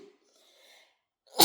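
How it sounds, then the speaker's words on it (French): A single sharp sneeze bursts out at the end, loud and close, after a few faint breathy sounds. "Excusez-moi, je vais éternuer."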